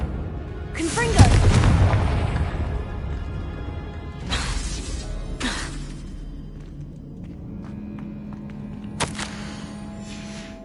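Hogwarts Legacy spellcasting in a tomb: a loud, close Confringo blast booms and rumbles early on. Later come two more whooshing bursts and a final sharp pop, over a low, droning game ambience.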